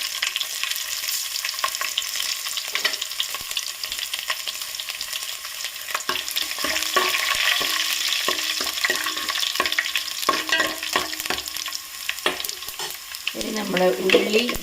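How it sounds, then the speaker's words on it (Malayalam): Mustard seeds and garlic fry in a hot pan with a steady bright sizzle, broken by scattered sharp pops and crackles and the scrape of stirring, building louder toward the end with no talking. "കടുക് പൊട്ടിക്കഴിയുമ്പം വെളുത്തുള്ളി ഇട്ട് കൊടുക്കാം."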